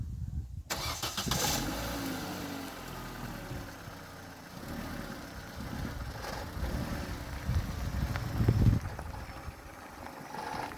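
An Opel Astra F petrol car driving off, its mid-pitched engine running steadily close by and rising in revs toward the end, with road rumble underneath and no talking.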